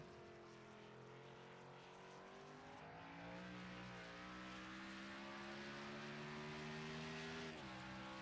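From onboard a race car in an IOS Cup Series race, the engine drones and climbs steadily in pitch, then drops sharply in a quick downshift near the end.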